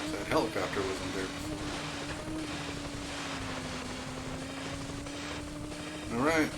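A helicopter in the Nintendo 64 racing game Wave Race 64 gives off a steady, even droning hum that runs throughout, with a voice talking briefly at the start and again at the end.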